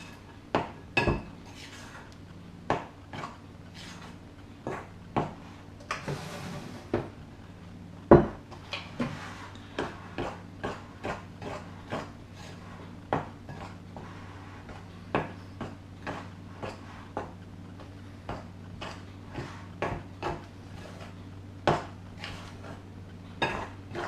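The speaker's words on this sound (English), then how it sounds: "So we're now going to fold the flour into the mixture." Spoon or spatula scraping and knocking against a bowl while flour is folded into chocolate chip cookie dough, a steady run of sharp clinks and taps at irregular intervals, close and alone over a low background hum.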